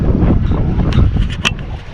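Strong wind roars and buffets against the microphone in a steady, gusty rush, with faint splashing and creaking in the background.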